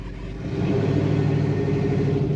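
A 1967 Dodge Coronet 440 wagon fitted with a Mopar scoop runs with a steady, close, deep rumble that swells slightly after the first half second and then holds without talk.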